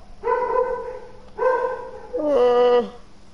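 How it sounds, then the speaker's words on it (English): Dogs let out three drawn-out, yelping barks close by, each a sharp tonal cry with a brief pause between, the last one rising and wavering; no one speaks over them. "my dogs oh. need to uh, shut their friggin' mouths, mate."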